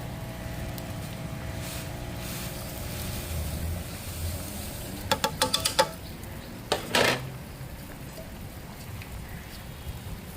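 A spoon stirs vermicelli payasam in a cooking pot, giving a few quick metallic scrapes and clinks against the rim. They come in two short bursts over a soft, steady background hiss.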